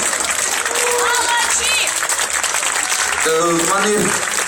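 Applause rises from the audience to greet the winners at a salsa marathon awards ceremony, loud and sustained under an announcer's voice and other talk.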